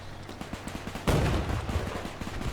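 Machine gun fire from a vehicle-mounted gun in Men of War 2 crackles as rapid regular rattling through a steady mechanical rumble, with a heavier louder burst about a second in and continued clatter afterward.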